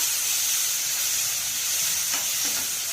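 Chopped tomatoes sizzle in a frying pan with browned onions, a steady close hiss of frying that runs unbroken throughout, with a faint stir or clink near the end.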